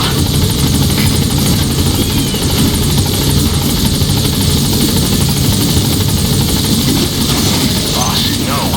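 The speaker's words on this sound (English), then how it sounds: "I'll send the extraction chopper." Extraction helicopter from the Metal Gear Solid game series, a steady loud rotor and engine drone filling the whole stretch, with voices talking over it.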